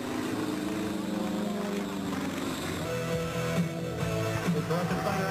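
A Blue Angels jet flying at an air show at Dobbins, a loud sustained engine roar with shifting tonal whine, continuous and fairly near, with faint crowd voices.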